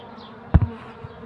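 Honeybees buzzing at a hive being smoked, with a short loud close buzz burst and a second smaller one over a faint hum, no talking.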